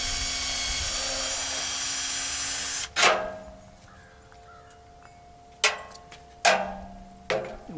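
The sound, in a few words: drill boring holes in clamped wooden yardsticks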